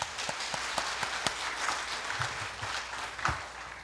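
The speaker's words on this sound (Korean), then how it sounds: "여러분 최종 마무리 발언 세션 박수로 시작해 보겠습니다" An audience at a public deliberation forum on a proposed Starfield mall in Changwon applauds to open the final remarks session: a crowd's diffuse clapping, moderately loud and continuous, with a few sharper individual claps near the front.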